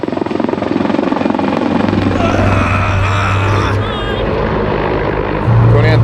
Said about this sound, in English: This U.S. Marine chopper arriving is a sign of safety in the role-playing exercises today